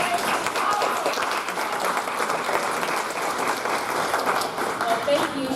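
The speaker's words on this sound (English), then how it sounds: "please applaud Linda Egnatz" A conference audience claps steadily for a speaker taking the stage at a session on the Seal of Biliteracy, with dense, sustained applause filling the room at even loudness throughout.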